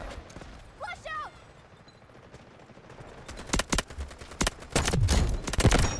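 A SCAR-H rifle fires in the shooter game Delta Force as sharp, loud single shots and short bursts in the second half, following a quieter stretch with someone talking.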